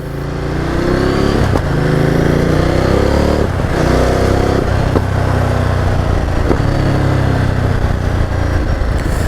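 A rental scooter-style motorcycle runs loud and close, its engine droning steadily with a few revs rising and dropping early on, then settling into a continuous rumble without talk.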